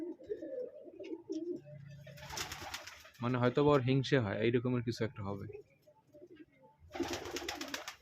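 Pigeons coo in a loft in low, throaty bursts, heard close beneath someone talking steadily over them.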